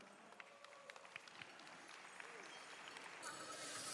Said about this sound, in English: Give a round of applause for our men's traditional dancers